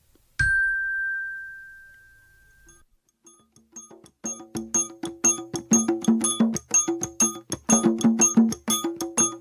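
A single bright metallic gong strike rings out and fades slowly, followed by a rapid run of chiming, tinkling tones.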